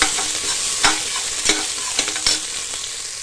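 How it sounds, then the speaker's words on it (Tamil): Small shallots sauté in hot oil in a pan, a steady sizzle broken by several sharp stirring scrapes, close and fairly loud, with no talking. "அடுத்து சின்ன வெங்காயம் கொஞ்சம் கட் பண்ணியிருக்குது. நல்லா வதக்கிக்கிடுவோம்."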